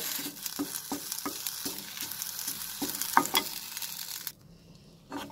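Curry leaves dry roast in a pan, with a rhythmic series of crisp spatula scrapes and light crackling at close range that stops abruptly near the end, and no voices.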